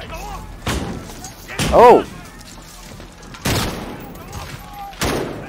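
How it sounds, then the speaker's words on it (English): Shotgun blasts in Call of Duty Modern Warfare: several sharp, loud booms spaced a second or two apart, with a man's brief exclamation between the shots. "That shotgun's good."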